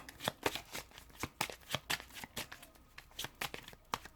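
Tarot cards are drawn off the top of a deck during a zodiac reading, giving quick, crisp papery flicks and snaps in an irregular run of soft taps, close and fairly quiet, with no speech.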